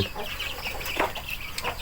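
Chickens, both young birds and grown hens, cluck and chatter together on a farm at feeding time, a busy overlapping flock sound close by with short calls.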